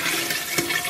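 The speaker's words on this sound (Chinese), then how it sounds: "然后咱们给锅里边稍微来点水" Water poured into a large braising pot holding five fried pig's trotters with spices, a brief steady splashing rush, close and fairly loud, with no talk.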